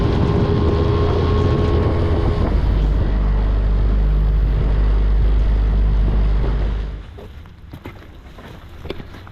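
A motorboat engine drones loudly and steadily with wind noise on the microphone, then drops away, leaving quieter rumble and splashing.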